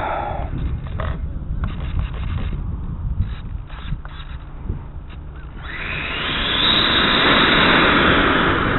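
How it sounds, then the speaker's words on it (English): A Vortex RC jet with a 90mm 1000KV RCLander electric ducted fan on an 8S pack whines steadily, then swells into a loud, rushing full-throttle roar that holds to the end. "here we go with the Vortex, running an 8S pack and a 1000 kV RCLander EDF motor, 90mm."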